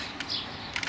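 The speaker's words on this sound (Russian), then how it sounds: "птички поют" Small birds chirp outdoors beside a residential street on a warm spring day, with a few short, bright tweets standing out faintly over a soft background hiss.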